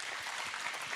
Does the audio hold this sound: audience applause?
yes